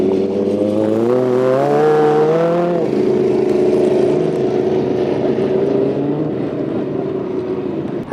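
Grasstrack racing motorcycles roar loud and close, engine pitch climbing through a rev before settling into a sustained, steady drone.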